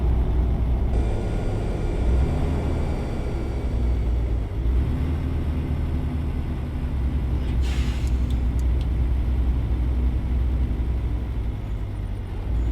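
A truck drives along a road in American Truck Simulator: a steady loud engine drone and rolling rumble run throughout, with a brief hiss like an air brake near the middle.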